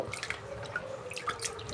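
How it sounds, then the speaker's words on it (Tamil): Rice rinsed by hand in water for idli batter, with steady soft sloshing and dripping trickles close by and no voices. "அரிசி பார்த்திங்கன்னா நல்லா களைஞ்சி எடுத்தாச்சு"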